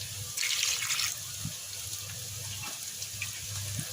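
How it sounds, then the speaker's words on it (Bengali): Water runs and splashes into a pot of chicken curry in a steady stream, with a louder gush near the start and a low rumble underneath. "এবার ঝোলের পানি দিয়ে দেবো"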